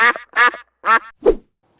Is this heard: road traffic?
no